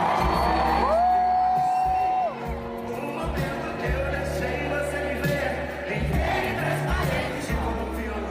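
A concert crowd at a Brazilian music show whoops and cheers loudly as a song begins, with shouts rising over a steady roar and music underneath throughout.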